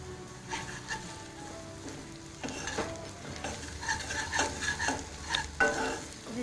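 Onions frying in a pan with ginger garlic paste added, a soft sizzle under repeated scraping and stirring strokes from a spoon, close and moderately quiet with no speech.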